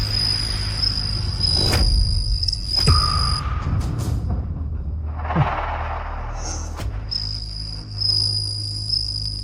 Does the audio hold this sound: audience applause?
no